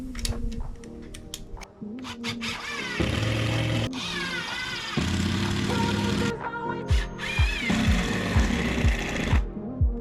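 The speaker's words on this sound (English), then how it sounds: "and then I sent some screws through it." A power drill drives screws through boards glued to a tiny home's frame, with several whirring bursts of rising and falling pitch and short clicks between them, loud and close.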